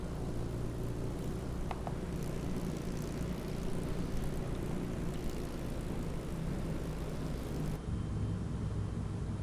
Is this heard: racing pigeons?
no